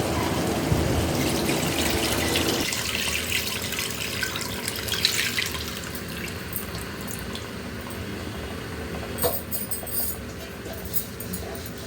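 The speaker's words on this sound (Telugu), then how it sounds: "మనం పిసికి పెట్టుకున్న చింతపండు పులుసు వేసుకోవాలి." Tamarind water being poured into a simmering Telangana-style fish curry, a steady liquid splash and trickle running through the whole stretch with a few louder gushes, close by and with no talk.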